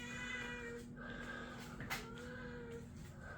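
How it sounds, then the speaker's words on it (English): A cat meows several times in a row, drawn-out and plaintive, in an anodizing room over a steady low background hum. "so there's my little cat."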